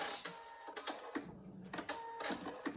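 A home sewing machine back stitching a small fabric stuffed heart, giving short bursts of rapid mechanical chatter with brief pauses between, close and fairly quiet, with no talking.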